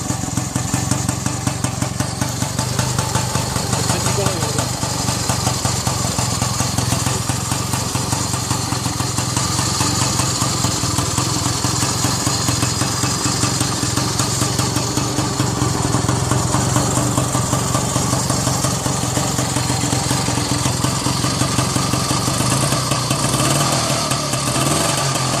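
A Jawa 175 Special motorcycle with its 172 cc two-stroke single-cylinder engine runs steadily and loudly throughout, a continuous buzzing drone with no voices over it.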